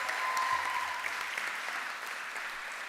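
An audience at a school fine arts awards ceremony gives a sustained round of applause, a dense, even wash of many hands clapping, loud at first and easing slightly toward the end, with a faint voice briefly underneath.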